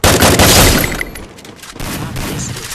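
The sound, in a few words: gunfire headshot in a shooter video game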